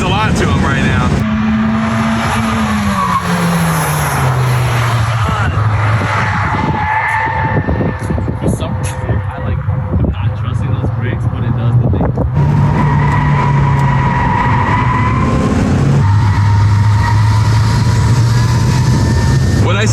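A one-off Volkswagen Mk3 A59 museum car driving hard, its engine droning loudly and rising and falling through the gears with turbo whistles and whooshes, heard from inside the car for the whole stretch.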